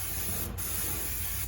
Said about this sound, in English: we want to spray our cooking spray on